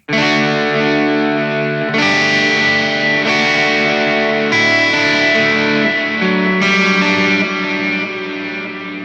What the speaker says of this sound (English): if making a brighter reverb, you're going to hear that it is a much more overbearing sound